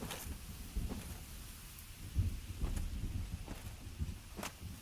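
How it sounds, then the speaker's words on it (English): Thunderstorm ambience in the video game Dark Souls Remastered: a low, rolling rumble and a rain-like hiss at moderate level, with a few scattered soft thuds and clicks on top and no speech. "Sounds like a storm's coming."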